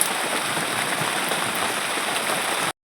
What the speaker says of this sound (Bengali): কতদিন থেকে বৃষ্টি হচ্ছে